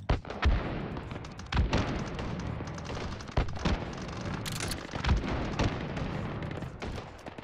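A sticky launcher fires in the VR shooter Hot Dogs, Horseshoes & Hand Grenades, giving repeated booming thumps at irregular intervals over a dense, continuous layer of game noise.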